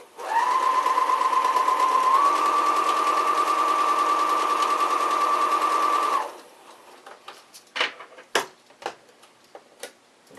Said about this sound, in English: I just keep on sewing.